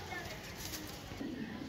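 Pigeons kept by a fancier in Gujrat coo faintly in low, soft murmurs, with a voice in the background.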